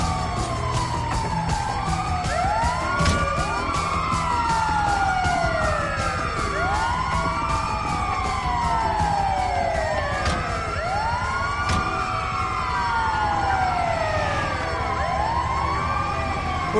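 Ambulance siren in Grand Theft Auto V, a loud, close, repeating wail that sweeps up and down in overlapping cycles over steady engine rumble, with no talking.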